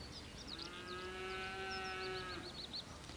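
A Hereford cow moos on a farm, one long drawn-out low call lasting about two seconds, with birds chirping faintly in the background.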